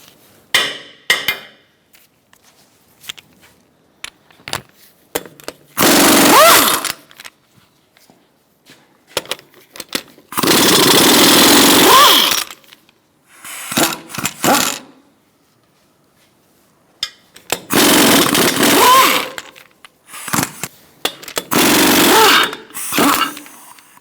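A power tool loosens the lug nuts on a 2002-2006 Toyota Camry 2.4L L4 wheel with a 21mm socket, in several loud rattling bursts of impact hammering separated by quieter clinks and pauses.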